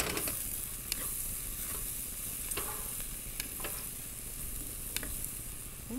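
Mushrooms and garlic fry in a pan for risotto, a bright steady sizzle with occasional light scrapes and clicks of stirring, nobody speaking.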